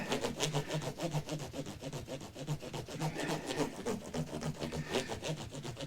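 Fine 8000 to 12,000 grit abrasive is rubbed back and forth on a Harley Benton CST 24 guitar, giving a soft, rhythmic scratchy sound in quick, even strokes, close and fairly quiet, with no voices.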